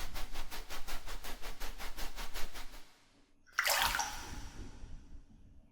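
Someone climbs into a bathtub filled with hot water: a steady run of rhythmic water sloshing gives way to a short pause, then a loud splash and rush of moving water as the body settles in, fading to gentle lapping.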